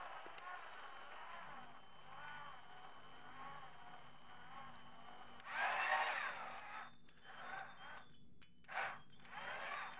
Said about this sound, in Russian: Дальше шуруповертом наворачиваем пружину.